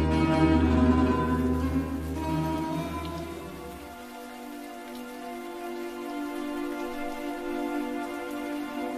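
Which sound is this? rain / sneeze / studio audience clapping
rain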